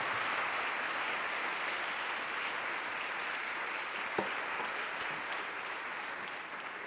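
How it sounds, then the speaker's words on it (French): A debate audience applauds the three speakers after a panel on future energy scenarios, with steady, even clapping from a crowd throughout, heard at moderate distance and fairly quiet. "Je crois qu'on peut applaudir nos trois intervenants."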